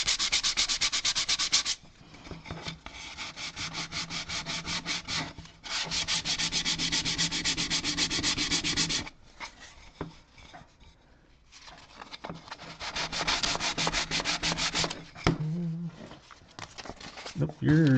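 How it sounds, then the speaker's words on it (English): Steady, rasping hand sanding strokes on wood in long continuous bursts with brief pauses, close and loud, with a short stretch of quieter rubbing and a dog whimpering near the end. "at this point now I can do it with a hand sanding."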